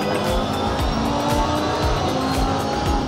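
Race car engine from a racing video game played on a homemade driving simulator, a steady loud engine drone with rhythmic gear-like pulses and tire noise throughout, no talking.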